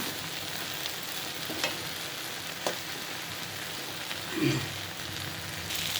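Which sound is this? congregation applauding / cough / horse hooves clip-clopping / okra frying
okra frying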